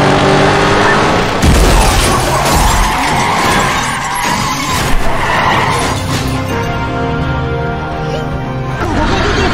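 A car crash scene from Stranger Things season 3, with loud crunching impacts, skidding and smashing metal and glass, mixed with dramatic music and a voice talking over it.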